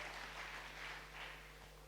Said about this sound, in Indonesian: Tepuk tangan bagi Allah kita, saudaraku.